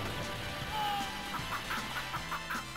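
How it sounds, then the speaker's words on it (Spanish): Chickens cluck in short, repeated bird calls in the 1991 Sunset Riders arcade game, heard over steady game music and effects. "Los pollitos corriendo, señores"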